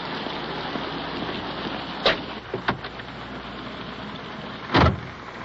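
Steady rain hisses close by, with a few sharp splashes or thumps cutting through the constant patter.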